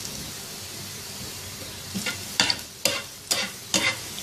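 Finely chopped onion sautéing in about two tablespoons of oil on a tawa over medium-high flame, heard as a faint background sizzle with several sharp stirring scrapes and bursts coming in a steady rhythm toward the end.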